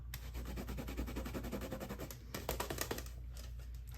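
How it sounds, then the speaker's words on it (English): Rubber stamp being scrubbed clean with stamp cleaner, quiet rapid rubbing and scratching strokes in an uneven rhythm, close up. "So I'm going to find my stamp cleaner and give it a wash."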